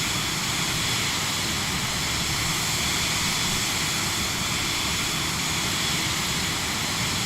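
Loud, steady roar of a Cirrus Vision Jet G2+ cabin climbing out after takeoff from Stellar Airpark, a dense unbroken engine and airflow noise filling the whole stretch.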